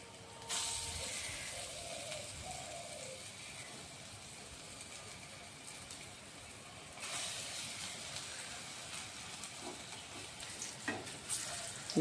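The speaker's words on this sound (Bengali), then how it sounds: "এখন আমি ছোট ছোট করে ভেজে নেব, বেশি বড় করব না, এই যে ছোট ছোট করে ভেজে নেব" Small jackfruit and prawn kofta balls fry in hot oil with a steady broadband sizzle, moderately loud and close, with a brief surge when more balls go in and a few faint clinks near the end.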